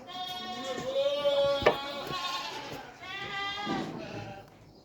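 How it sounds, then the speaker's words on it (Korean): A young goat bleats on a farm near a flock of chickens fed with discarded rice, its wavering cries repeating over a few seconds, close by, with a sharp knock in between and faint farmyard noise behind. "저기 지금 앞에 보이는 저 염소도 새끼 염소인데"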